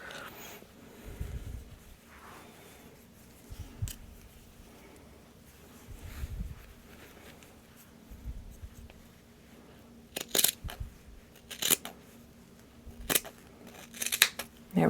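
Scissors snip through a striped knitted steek, a series of short crisp cuts spaced a second or two apart, close and fairly quiet, with faint rustling of yarn between them.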